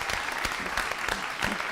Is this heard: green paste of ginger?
no